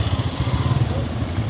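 A motorcycle engine runs at a steady low throb throughout, close by, with voices talking over it.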